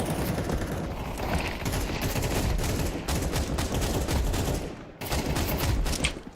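Rapid gunfire in a counter-terrorist shooter match, dense overlapping bursts of shots crackling almost continuously, loud and close with a brief gap near the end.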